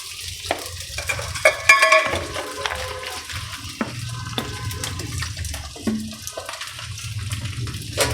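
Ginger-garlic paste frying in a pan for a masala koi fish curry, a steady close sizzle with stirring scrapes and a few clinks of a spoon against the pan, no talking.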